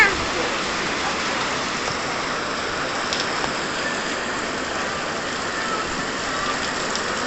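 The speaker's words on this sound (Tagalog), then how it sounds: "Ayan, yan yung ocean." Ocean waves at Boracay beach make a steady, broad wash of surf that holds level throughout, with no breaks between waves and no voices.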